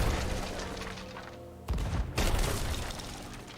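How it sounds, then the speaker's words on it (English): Cannon fire in Empire: Total War comes as dense, rumbling booms, with two sharp blasts in quick succession over a continuous roar of battle. "Someone is shooting the cannon."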